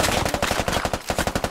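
Automatic gunfire in the military shooter game Squad, a rapid sustained burst of loud, dense shots fired close by with no pause.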